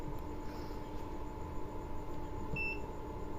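A short, high electronic beep from a multimeter in continuity buzzer mode sounds once near the end over a steady background hum, with no talking.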